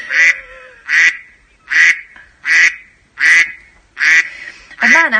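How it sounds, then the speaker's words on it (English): A duck quacks seven times in a steady, evenly spaced rhythm, loud and near, with the final call rougher and more strained than the rest. "It's a very regular duck, isn't it?"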